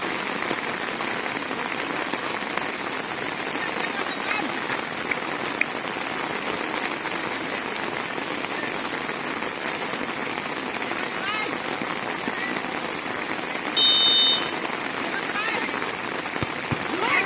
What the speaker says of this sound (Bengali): প্রচণ্ড বৃষ্টির মধ্যে কিন্তু খেলা চলছে একেবারে